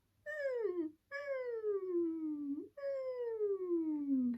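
A human voice imitates a sad puppy's whine in three long, drawn-out falling whimpers with brief gaps between them, nasal and close, sung in a twang style.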